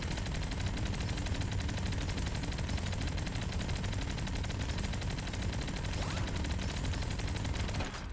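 Rapid, continuous chain gun fire from a tower defense roguelite video game, a dense unbroken stream of shots held loud and steady for the whole stretch with no talking.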